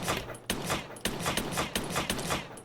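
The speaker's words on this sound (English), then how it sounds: "If I shoot at him," Gunshots in a third-person shooter video game, fired in a quick series of sharp cracks with short gaps between them, moderately loud over a steady background hum.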